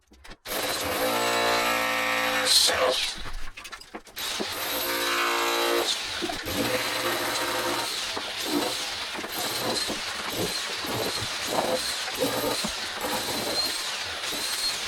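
A wall is torn down in a 1970s bathroom renovation, with a loud, continuous grinding roar of demolition tools interrupted by brief pauses, banging and scraping.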